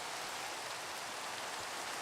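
Steady rain hiss in hardcore Minecraft Java 1.21.8, an even, unbroken wash of falling rain with no talk over it.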